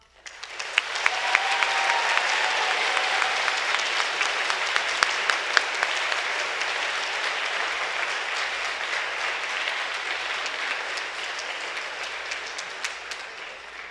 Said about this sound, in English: they deserve a huge round of applause